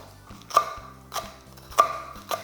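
A knife slices diagonally through long green chili on a cutting board, giving four evenly spaced sharp chops with soft background hum between, close and clear.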